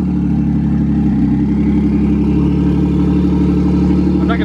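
A Nissan 370Z's engine runs at a cold idle, a steady, loud, close mechanical drone with a brief bump in tone early on and no revving.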